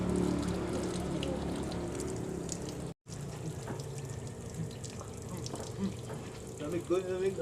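Water runs from a household tap in a steady, fairly loud stream, with a brief dropout partway through and people talking over it.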